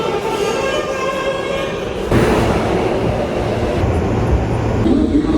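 New York City subway train rumbling loudly with a steady clatter of wheels and car noise, a sharp jump in level partway through as it grows nearer and harsher, with a brief high tone near the end.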